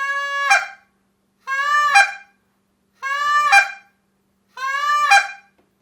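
Short reed honker goose call blown open-handed, imitating a Canada goose moan run into a cluck: four loud, close, evenly spaced calls, each a rising reedy moan breaking sharply into a cluck, with silence between.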